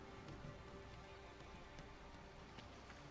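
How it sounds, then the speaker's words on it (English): Rain in the video game Dragon Age: Inquisition, a steady faint patter of raindrops with soft dull rumbling underneath, no talking. "It is raining."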